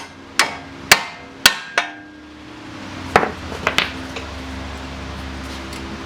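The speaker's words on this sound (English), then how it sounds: "Just take a hammer and tap the bolts out." Four sharp metallic hammer strikes tapping out front strut bolts on a 2003 Saab 9-3 Linear ring out in quick succession, followed by a pause and a few lighter taps and clanks, close and loud in a workshop.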